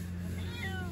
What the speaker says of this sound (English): I want to say hi to Nani's cat, Nunu.